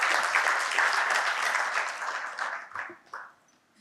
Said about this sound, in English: Ladies and gentlemen, first of all, clap for yourselves